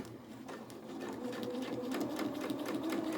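A domestic sewing machine stitches fabric for a small doll's dress, guided along the edge of the presser foot, a rapid even whirring of the needle that builds slightly and holds steady, close up.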